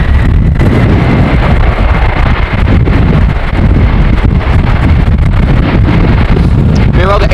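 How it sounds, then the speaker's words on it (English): Strong storm wind buffeting a camera microphone on a tripod at Amsterdam Schiphol airport, a loud, continuous low roar with rumbling gusts, no talking. "Camera is right in the wind with the tripod. It is secured with tent wires and herrings. But still, the wind is really hard."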